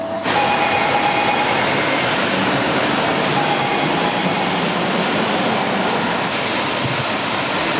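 Compressed air blasting dust off a Honda Transalp exhaust header, a loud continuous hiss that starts abruptly and holds steady throughout, with no speech.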